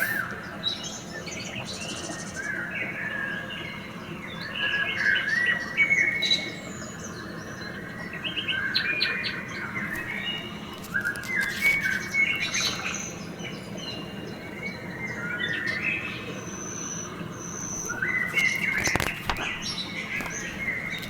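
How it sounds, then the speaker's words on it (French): A sparrow chirping repeatedly in short bright bursts, scattered over about twenty seconds against a steady low background hum, with occasional rustling. "Un moineau, c'est rigolo, ça bouge tout le temps, dit Patapouf."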